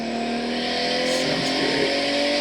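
A car engine, apparently a Subaru WRX, runs steadily and loudly at high revs with a continuous roar, rising slightly in pitch with no breaks.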